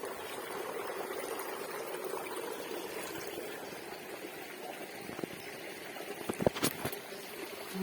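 Water flowing along a forest stream with small waterfalls, a steady soft rushing that continues throughout at low level, with a few brief knocks or footstep-like sounds near the end.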